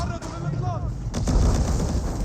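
Mangonels fling incendiary rocks in an Age of Empires 4 battle, a short burst of loud booming impacts and crackling fire over dense game noise, with a brief whistling tone at the start.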